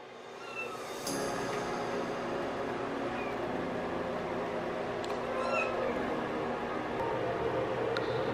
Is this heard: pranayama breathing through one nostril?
no